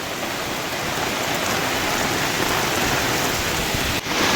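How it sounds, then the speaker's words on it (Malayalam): Heavy rain pours down at Angadipuram in a loud, steady hiss that stays constant throughout with no pauses. "എന്തായാലും നല്ല പിടുത്തം വിട്ട മഴയാണ്"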